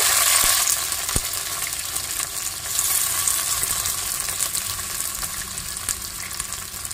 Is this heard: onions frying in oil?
yes